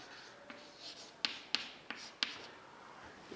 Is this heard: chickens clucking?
no